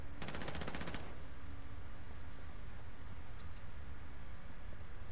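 Video game gunfire in a rapid automatic burst lasts about a second, loud and close over a constant noisy background, followed by a few faint distant pops.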